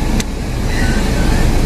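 A car interior as someone settles in to drive with the air conditioning running, a steady close engine and fan hum throughout, with a brief click near the start, on a hot day near Dasam Falls in Jharkhand.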